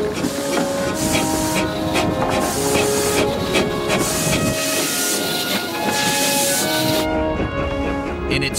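The Planet steam locomotive, an early 1830s design of the Liverpool and Manchester Railway, runs with loud continuous hissing steam, rolling rail clatter and whistle-like tones, sustained close up throughout.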